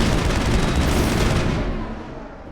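Loud, dense rolling explosions and gunfire-like blasts in the video game Mass Effect, a sustained barrage that fills the sound before fading toward the end.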